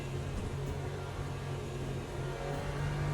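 Race car in Le Mans Ultimate at Sebring, engine droning steadily as it accelerates gradually, a close, continuous mid-pitched tone with no talk.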